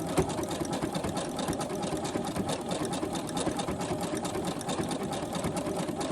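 A sewing machine stitches fabric ruffles for junk journals, running loud and close with a continuous rapid mechanical chatter throughout.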